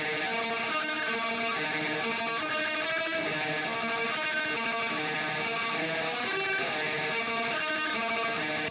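An electric guitar lead tone through an Aurora DSP Laboga amp sim with light delay, playing dense distorted black metal lines continuously and loudly for several seconds with no voice.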